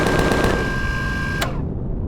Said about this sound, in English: a minigun attached to this thing